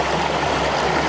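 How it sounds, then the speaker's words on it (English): A small cascade tumbles over rocks in a woodland creek, giving a steady, full rushing of water close by that carries on without a break, with no voices over it. "I got this cute little cascade falling down there in the background"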